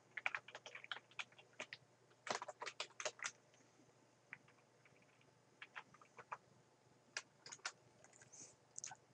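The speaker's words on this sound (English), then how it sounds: "we're going to click on the new folder button and type in today's date" Rapid bursts of computer keyboard typing, soft and close, with clusters of clicks separated by short pauses.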